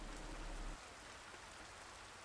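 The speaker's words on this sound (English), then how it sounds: "The rain outside falls hard." Hard rain falls outside in the visual novel game Tsukihime, a steady, soft wash of dense drops, faint and continuous, with a low rumble dropping away early on.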